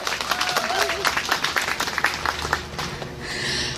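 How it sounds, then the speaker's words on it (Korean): An audience at a women-friendly city festival in Jecheon claps in a lively, uneven round of applause, with a voice briefly heard over the hands before the clapping fades. "네, 다시 한번 큰 박수 보내주실까요?"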